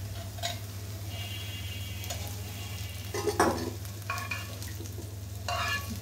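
Vegetable bhaji sizzles steadily in a pan as a spatula stirs and scrapes it in a few separate strokes, over a low constant hum.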